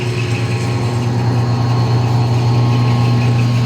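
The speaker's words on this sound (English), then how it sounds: "Again, that motor is brand new." A brand-new electric motor drives a rebuilt 24-inch Henke roller mill, giving a steady, loud, even hum with a low drone and faint higher whine, running continuously without variation.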